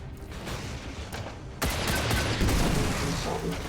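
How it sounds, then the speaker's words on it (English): A micro missile launches in XCOM 2 during a turn-based battle, with a sharp jump to a dense, loud roaring blast that sustains for about two seconds after a quieter stretch of background game noise. "let's drop a micro missile"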